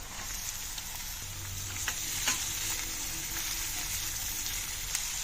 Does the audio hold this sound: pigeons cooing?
no